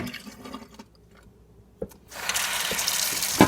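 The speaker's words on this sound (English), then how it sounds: "You pour the hot water in the colander to drain it." Hot water from boiling eggs poured out of a pan into a colander in a kitchen sink, a steady rushing splash that starts after a quiet pause and runs loud to the end, with a clink near the close.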